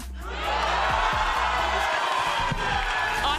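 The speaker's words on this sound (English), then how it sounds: "everyone is on their feet cheering" A large crowd of fans roars and cheers at a live watch party for a SEN versus C9 VCT Americas esports match, the noise swelling after half a second and holding loud, with whoops and thumps throughout.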